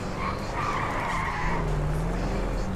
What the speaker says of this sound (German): Und wir driften hier voll rum.